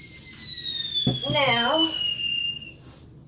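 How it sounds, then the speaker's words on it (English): A neighbor's firework whistles with a long descending tone, then gives a sharp crack and a sputtering burst in the distance, while a person speaks briefly nearby. "sorry about the fireworks, y'all. Neighbors are going crazy."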